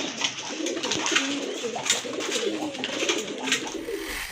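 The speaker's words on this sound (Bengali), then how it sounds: "প্রথমে কিন্তু আপনারা দেখতে পাচ্ছেন এক জোড়া কোয়ালিটি ফুল কবুতর" A pair of quality pigeons coo steadily and close by, with overlapping low rolling calls and no talk.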